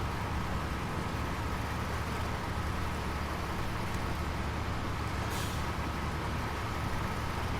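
A Freightliner 114SD truck drives on tarmac in the video game SnowRunner with a steady, loud engine drone and road rumble that stays constant throughout, with one brief hissing burst partway through.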